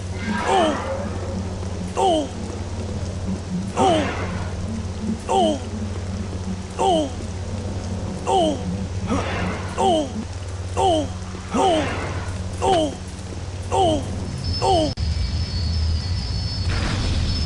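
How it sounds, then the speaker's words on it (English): Steady rain hisses in Star Wars Jedi Knight: Jedi Academy beneath a repeating series of sweeping electronic chirps spaced evenly about two seconds apart, over a low droning hum. "Keep out of the rain as much as possible."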